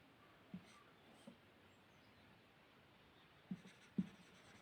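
Writing on a board in a maths classroom: faint, sparse taps and scratches against a quiet room hiss, with a few slightly sharper strokes near the end.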